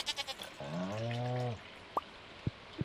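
A goat in the farming game Stardew Valley gives one clear, drawn-out bleat lasting about a second. Soft taps and drip-like game sounds come before and after it.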